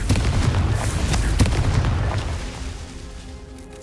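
A Confringo fire spell explodes in Hogwarts Legacy, a loud booming blast with sharp crackling bursts on top that rolls on for a few seconds and then tails off into a fading rumble.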